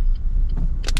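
A car heard up close with a low steady rumble, then two short, loud whirring bursts near the end, like an electric power window motor running.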